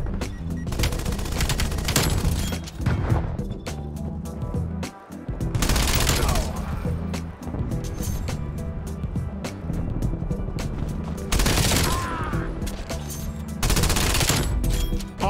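Dense rapid video game gunfire fills the stretch, sustained bursts of automatic shots with brief gaps, loud and continuous throughout with no talking over it.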